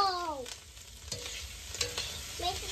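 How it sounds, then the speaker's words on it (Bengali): Eggs frying in a pan, a moderate steady sizzle with a few scraping stirs, and a brief whistling tonal sound at the start and end, no speech. "তো এখন দিয়ে দিচ্ছি ডিমগুলো।"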